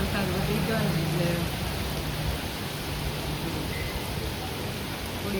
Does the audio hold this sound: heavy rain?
yes